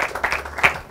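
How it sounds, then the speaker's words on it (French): An audience claps briefly at a Journée mondiale de l'enfance event, a short, moderate burst of scattered applause. "Est-ce qu'on peut l'encourager en l'applaudissant"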